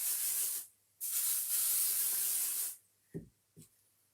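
A spray bottle spritzes water onto fabric handbag pieces in two long, close hissing bursts, followed by a couple of soft taps.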